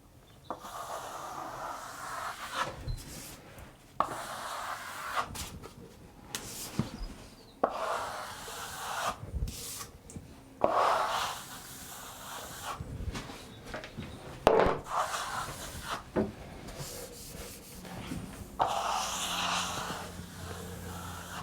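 A plastering trowel scrapes and smooths plaster across a wall in repeated close strokes with soft rubbing swishes and occasional taps between passes.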